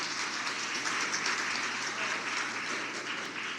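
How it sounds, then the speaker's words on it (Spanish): Sustained applause from a large crowd, a dense steady wash of clapping with no pauses. "al doctor Jorge Bucarán Sáxida, para quien pido un fuerte aplauso de todos los presentes."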